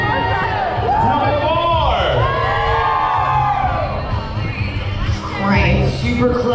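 A crowd at a Halloween party aboard the Carnival Breeze cruise ship cheers, whoops and yells loudly for a competing group, with excited voices and shouts rising and falling throughout.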